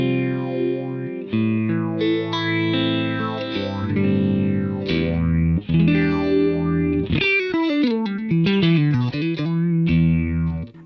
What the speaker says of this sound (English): you get that nice sort of slow phaser effect